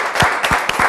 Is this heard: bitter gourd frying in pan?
no